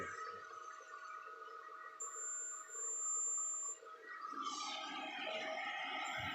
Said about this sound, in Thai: เร่งวอลลุ่มขึ้นมานะครับ ครับเสียงความถี่มันก็จะเปลี่ยนไปนะครับ